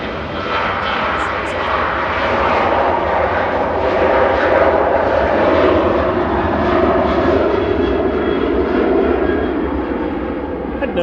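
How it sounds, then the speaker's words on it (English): An 18-year-old TUI Boeing 737-800 jet takes off from Manchester Airport, its engines making a sustained, loud roar that swells slightly in the middle and stays strong to the end, with no talk. "Heading over to Bodrum with flight 650 for TUI there. That's GTAWZ at 18-year-old 737-800"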